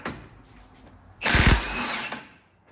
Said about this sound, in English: For this, you're going to need a 32 millimeter socket impact, and you're going to need a heavy impact.